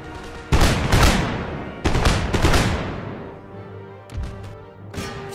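Musket volleys crash out in Empire: Total War during a battle at Philadelphia, several loud broadband bursts in quick succession with rumbling tails and a few fainter scattered shots afterward, no talk.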